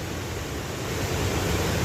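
Water drains into a large sinkhole at Gradišče Lake in Slovenia with a steady, loud broadband rush that stays constant throughout, like a close torrent with no breaks.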